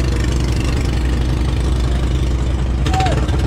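A service boat's new engine idles with a steady low rumble, continuous and fairly loud throughout, with a brief faint tonal chirp near the end.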